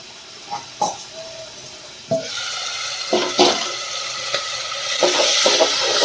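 Green cowpea beans (lili chori) being stirred with a ladle in a pan in a home kitchen, several scraping, clattering strokes at irregular intervals over a steady hiss of cooking.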